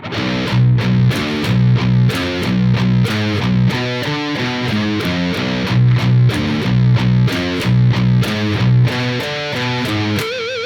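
A loud, distorted baritone guitar chugs through a tight palm-muted riff on the low sixth string, with choppy, rhythmic notes and a few ringing accents.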